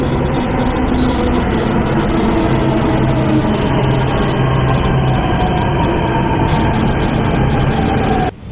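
A Pune metro train heard from on board, with a loud steady hum and a low rumble that continue unbroken and drop away abruptly at the end.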